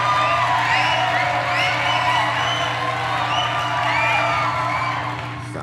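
A crowd cheers and whoops loudly and steadily, holding at full volume and then easing off toward the end.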